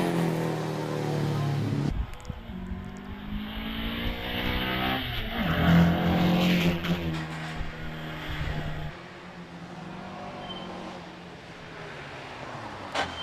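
A Porsche 911 3-litre race car launches at the Prescott hill climb, its engine revving hard through rising gear changes as it pulls away, loud at first and then fading into the distance.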